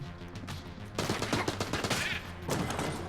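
Rapid bursts of gunfire from a pixel-art bullet-hell dungeon shooter, Enter the Gungeon, crackle loudly over steady background game music, with a dense volley running through the middle and a second burst near the end.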